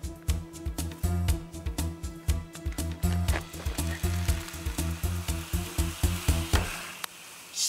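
Sausage, bacon and egg frying in a pan: steady close sizzling with a rhythmic series of scraping or stirring knocks, loud and regular, easing off near the end.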